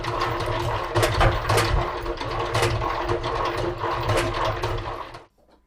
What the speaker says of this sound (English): I'll just crank this guy. It's gonna spin them outward, throw the honey out.